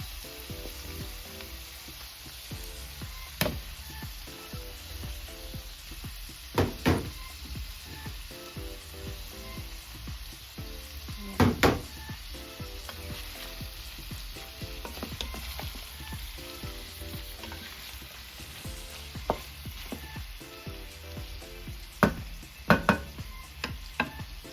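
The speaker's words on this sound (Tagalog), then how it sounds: "Gigisa ko lang siyang konti guys. Lagay ko itong carrots at patatas." Carrots and potatoes sautéing in a pan for Filipino menudo: a steady close sizzle with scattered sharp clicks and scrapes of stirring, running continuously without any talk.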